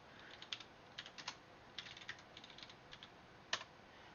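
Computer keyboard typing a VTP password for a network switch lab: a quick irregular run of light, close key clicks in small clusters with short pauses, one firmer tap near the end, no talking.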